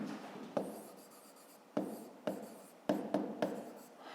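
A pen writes out a fifth-grade maths solution on paper, giving soft scratchy strokes broken by several sharp taps as the pen meets the page, close and quiet with no speech.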